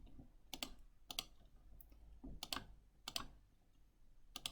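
Faint, close tapping of calculator keys as data is entered, a few quick clicks in small irregular groups against a quiet background.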